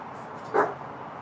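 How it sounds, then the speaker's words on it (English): Dog, a single short bark at moderate distance, brief and isolated against a quiet room background. "She's a dog."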